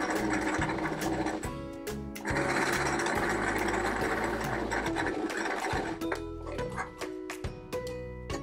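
A sewing machine stitches a teal gingham triangle onto a cactus-pot quilt patch, its rapid mechanical whirring running in bursts with short pauses and clicks between them, close and clear.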